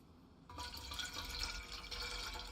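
Water gushes from a well pump in the zombie survival game Below Zero, a steady broadband splash starting abruptly after half a second and running continuously at close range, with no talk.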